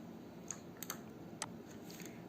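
Faint, sparse keystrokes on a computer keyboard, typed into a table in MS Word, with a few light clicks scattered over a quiet room background.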